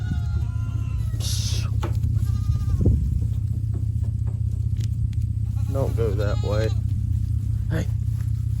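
Goats being moved between pastures bleat a few times, one early cry and a wavering cluster later, over a loud constant engine rumble as if from a truck or trailer.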